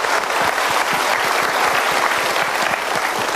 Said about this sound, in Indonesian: kita berikan tepuk tangan dulu mereka